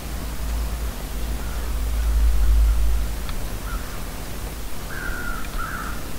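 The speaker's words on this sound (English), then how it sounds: "I hear crows, though." Crows caw in the snowy wilderness of The Long Dark, two or three short, faint calls rising late over a constant rush of wind and a deep rumble that swells and fades.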